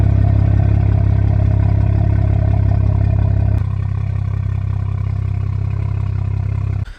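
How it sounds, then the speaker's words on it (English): The non-stock exhaust of a 2020 Toyota A90 Supra idles with a deep, steady rumble, loud and close, shifting slightly midway before a brief blip at the end. "The sound of that exhaust at idle."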